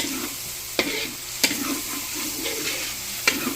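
Garlic sautés in a pan for ginisang munggo, giving a steady close sizzle and hiss broken by a few sharp spatula clacks against the pan.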